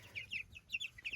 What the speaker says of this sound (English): Yes, these are meat birds.